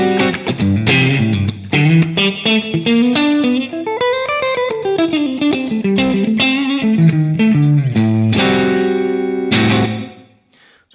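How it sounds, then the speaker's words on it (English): Electric guitar played through a JHS 3 Series hall reverb pedal set to a very short reverb with modulation off, picking melodic lines and chords with brief snappy tails, loud and close, ending in a quick decay to silence. "let's turn the hall reverb on"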